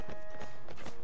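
Armored horses' hooves clop at a walking pace in Mount & Blade Warband, an even series of close, fairly loud hoofbeats with no voices.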